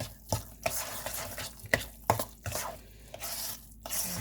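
Polenta (miliacium) mixture being stirred by hand, a series of wet, thick scrapes and slaps at an uneven rhythm, close and moderately loud, with no voices.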